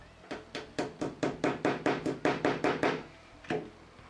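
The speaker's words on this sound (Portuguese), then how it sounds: "É só uma batidinha de leve, só para fazer um pequeno furo mesmo." Light hammer taps punch a small hole in a wooden hanger, a quick run of about ten soft, even knocks close by, then a pause and one last tap.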